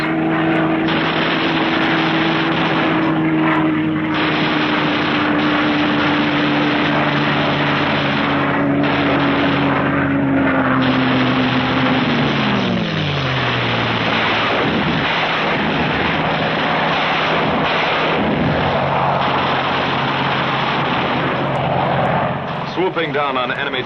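WWII fighter planes roar low overhead on strafing runs, a loud continuous engine drone with a falling pitch sweep as one passes, blended with rumbling bursts of fire.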